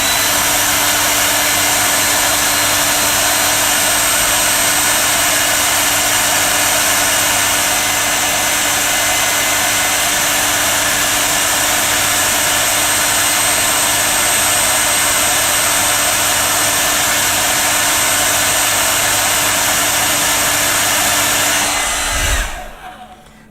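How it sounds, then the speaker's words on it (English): A hairdryer blows steadily and loudly for the whole stretch, drying a vinyl Godzilla model kit, with an even whooshing roar and a motor hum that hold constant until it switches off abruptly near the end. "So that's what I'm going to use, it's a hairdryer."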